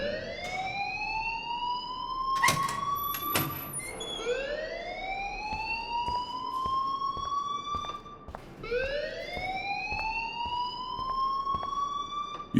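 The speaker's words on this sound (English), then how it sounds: "please turn off that alarm since that's your job" An electronic alarm in the video game Life is Strange rings out with a loud, repeating rising whoop that sweeps upward every few seconds, with a few sharp clicks mixed in.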